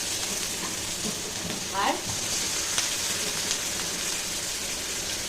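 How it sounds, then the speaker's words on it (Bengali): Chopped onions hit hot oil in a pan where fish was just fried, giving a steady crackling sizzle with a brief stirring scrape and a faint spoken word. "মাছ ভাজা হয়ে গেছে, দিয়ে দিচ্ছি পেঁয়াজ কুচি"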